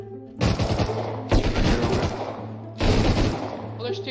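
Bursts of gunfire in the video game Rust on an oil rig, three loud rapid volleys with short gaps, players talking around them.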